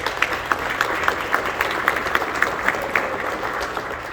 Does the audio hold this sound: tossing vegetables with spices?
no